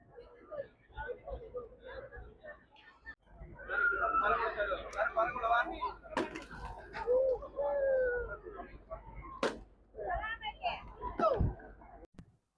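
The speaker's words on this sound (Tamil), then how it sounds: "புறாக்களின் சரணாலயம் அப்படிங்கிற அளவுக்கு இங்கே புறாக்களின் கூட்டத்தை பாருங்கள்" A large flock of pigeons at Batu Caves in Malaysia coos steadily through the whole stretch, partly under people talking nearby, including a voice.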